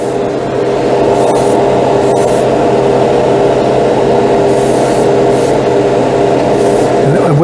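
Stynelrez acrylic primer hisses steadily from a spray gun, loud and continuous for the whole stretch with no pauses.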